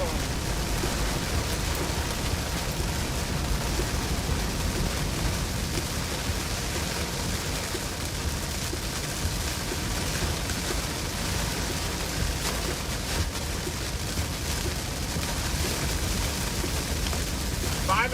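Hail starts to fall during an Iowa storm, a dense, steady patter of impacts and rain-like hiss that continues throughout, with a few sharper knocks near the end and muffled voices underneath.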